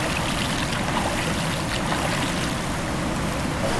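Fast-flowing stream water at a campsite in an oil palm plantation rushes in a dense, continuous, loud roar, close by, with no voices.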